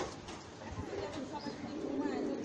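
Raw pankhi pigeons coo softly in a short burst, close by, partly masked by a person talking over them.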